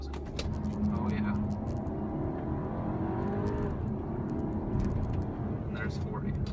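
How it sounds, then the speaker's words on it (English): A 2016 Volkswagen Passat R-Line makes a brake-torque launch and burnout up a hill, its engine droning loud and steady with rising and falling revs throughout, and a voice talks over it. "I did a little bit of a burnout there"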